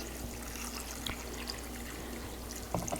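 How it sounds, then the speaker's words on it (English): Fresh cold water runs in a steady, faint trickle into a pot of dried soup beans, a continuous soft splashing pour with no talk. "So now I'm going to put in fresh cold water."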